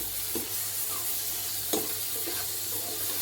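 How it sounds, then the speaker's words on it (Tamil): Tomatoes sauté in a hot pan for a green masala dish, with a steady low sizzle and a few soft stirring scrapes, close and quiet, without talk. "தக்காளியோட தக்காளியை வதக்கிட்டு இருக்கேன்."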